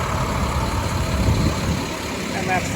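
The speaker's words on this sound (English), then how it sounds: "There's the fire truck following those firefighters." A fire truck engine idles low and steady at a Parade of Lights in Thunder Bay, a rumbling drone with crowd noise, while a person talks over it.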